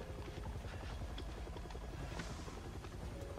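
A helicopter in the video game Resident Evil gives a faint, steady rotor thrum that continues without a break, with no voices over it.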